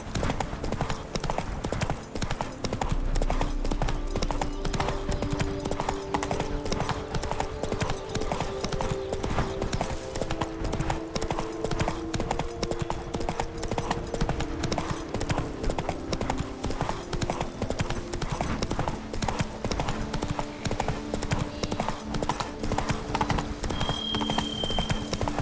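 Roach, the horse from The Witcher 3: Blood and Wine, gallops in a fast, unbroken rhythm of hoofbeats throughout, loud and close, with game music and a faint voice underneath.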